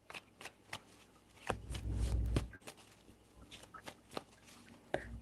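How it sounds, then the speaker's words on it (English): Close, quiet riffling and tapping of tarot cards being shuffled, several bursts with a longer flurry in the middle, no talking. "Four shuffles."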